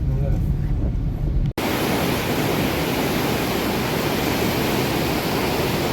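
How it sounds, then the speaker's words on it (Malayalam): The Pampa river near Sabarimala in heavy flood roars as a loud, steady, broadband rush of water. A brief muffled stretch with a faint voice comes first, then the clip cuts into the full torrent. "എന്റെ മോനെ ഇത്രയും രീതിയിൽ പമ്പ ഒഴുകുന്നത് ഇതാദ്യമാണ് ഞാൻ കണ്ടിട്ടില്ല"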